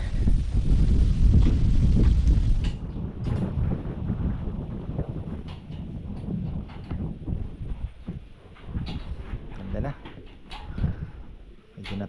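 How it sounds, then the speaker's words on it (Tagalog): Strong gusty wind buffets the microphone with a steady low roar, loud throughout, while a voice speaks underneath. "yan na naman ang hangin"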